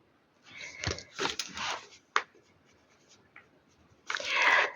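A pen scratches out a knitting measurement on paper in several short close bursts separated by quiet pauses, ending with a longer scribble, no voices.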